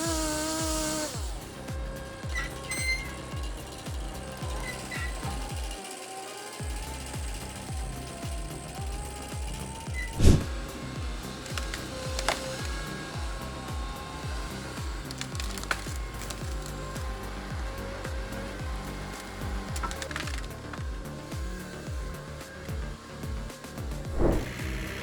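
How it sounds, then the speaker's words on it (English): A big forestry machine that grips logs and saws through them clanks and grinds steadily, with loud ratcheting mechanical rattles and creaks, occasional sharp cracks of splitting wood and a few whining motor tones, with no talk. "This is a forestry tool that combines a holding mechanism for logs with a cutting mechanism"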